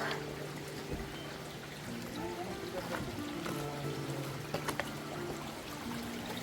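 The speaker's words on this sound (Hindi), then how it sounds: "ये पानी का आवाज़ यहाँ पे इतना सूदिंग लग रहा था" Stream water rushes over rocks and boulders on a trek trail in Meghalaya, a steady, close, continuous flow with a few brief splashes and no clear talk.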